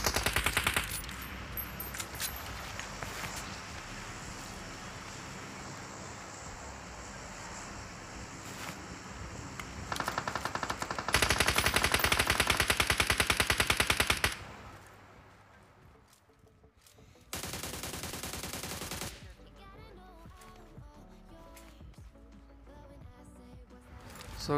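Gunfire in a PUBG Mobile match: a dense, steady stream of automatic shots runs for the first part, a louder burst follows, then bursts stop and start amid wind and game ambience.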